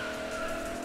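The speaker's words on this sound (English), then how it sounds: "I think it'll be alright to drift the car when it's okay, right?" Tires squealing as a car drifts in a racing video game, the in-game Mercedes 300 SEL 6.3 sliding with a sustained, steady high screech over engine noise, brief and loud with no talking.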